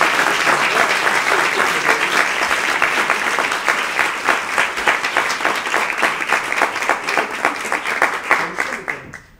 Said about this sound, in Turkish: Sevgili Murat Çorak için güçlü bir alkış yapar mısın